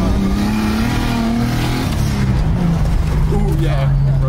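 A turbocharged M50-engined BMW E30 accelerating hard, the engine note climbing and shifting under the cabin roar, with voices talking over it.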